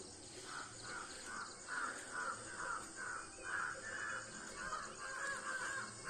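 Crows caw repeatedly at sunrise in a quiet village in Mithila, India, a steady series of harsh calls about twice a second over a constant hiss of insects in the background.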